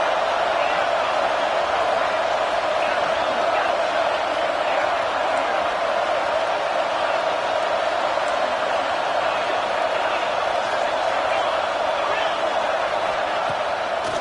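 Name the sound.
football stadium crowd roaring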